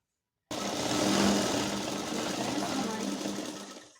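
A sewing machine stitches petticoat panels in one steady, fast whirring run of about three and a half seconds, close and fairly loud, easing off at the end.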